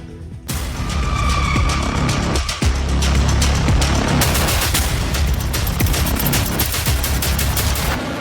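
Loud, dense gunfire in war footage, rapid bursts and volleys with heavy booms that suggest rocket launchers, firing almost continuously and crackling sharply throughout.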